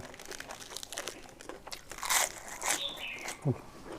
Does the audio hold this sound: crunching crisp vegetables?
yes